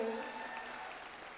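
Faint applause rises from a seminar audience at a mega seminar, a soft, brief patter of many hands heard at a distance.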